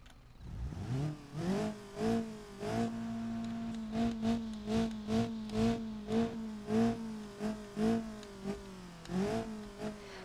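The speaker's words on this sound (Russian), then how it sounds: "Улучшили звуки движков." A car engine revs repeatedly in quick bursts in the video game BeamNG Drive, pitch climbing and dropping in a rhythmic pattern, loud and close with no voices.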